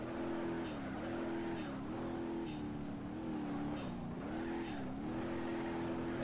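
A car engine in BeamNG.drive hums steadily while its pitch swells and dips in a regular rhythm about once a second, like repeated light revving.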